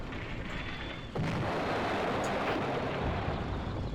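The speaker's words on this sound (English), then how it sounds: "The mortar is now finally landing" Mortar shells land in the Combat Mission: Beyond Overlord war game. A steady low battle rumble jumps into a sudden broadband impact, then a sustained roar of shelling at moderate loudness.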